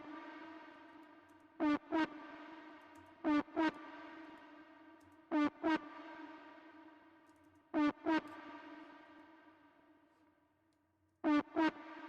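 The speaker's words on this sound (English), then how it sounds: "Actually sounds quite cool after the reverb" Electronic music drop soaked in reverb: a sustained buzzy synth tone punctuated by sharp double hits every couple of seconds, each tail ringing out and decaying, loud and alone without voices.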